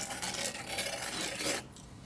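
Hand filing a burr off a 1961 Harley-Davidson FL 74ci panhead cylinder head, a quick run of close, scratchy rasping strokes that stops abruptly near the end.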